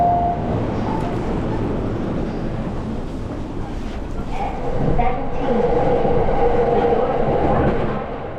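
A commuter train on an above-ground line outside central Tokyo rumbles steadily for several seconds, a loud close interior roar with faint rattling and clickety-clack, swelling slightly toward the end.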